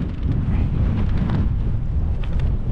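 Strong, wet, misty wind buffets a boat, a loud continuous low rumble of gusts battering the microphone with no voices.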